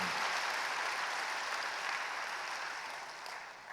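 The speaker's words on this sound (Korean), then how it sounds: "이럴 때 박수 한번 더 치셔도 좋습니다" A church audience at a teachers' seminar claps in welcome, a dense, steady wash of applause that fades slightly toward the end, with no voices over it.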